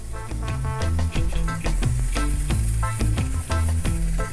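Garlic sizzles loudly as it hits hot oil in a pan, a dense, steady crackle of frying with rhythmic clatter from stirring or tapping running all the way through.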